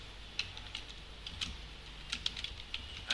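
Irregular clicks of someone typing HTML code on a computer keyboard, light and fairly close, in scattered bursts of keystrokes over a soft background hush.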